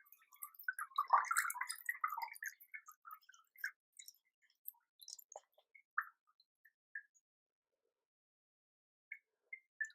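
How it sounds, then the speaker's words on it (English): Water draining from a Brassocattleya orchid pot after repotting, a brief trickle at first thinning into sparse, isolated drips and ticks against near silence, close and fairly faint. "So we'll just let this drain out."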